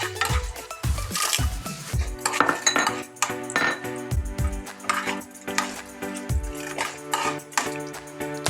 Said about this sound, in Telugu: శనగపప్పు, మినప్పప్పు, ఎండుమిర్చి, పచ్చిమిరపకాయలు బాండి పెట్టేసుకుని వేపేసుకుందాము